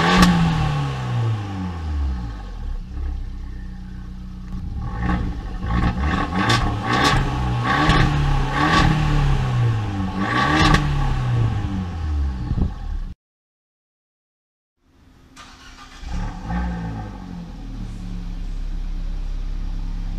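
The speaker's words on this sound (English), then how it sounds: "Let's start this car up next and wake everyone up." Abarth 124 Spider Turismo engine cranking into life and revving hard several times, loud and close, then cutting out into a short silence before idling and revving again.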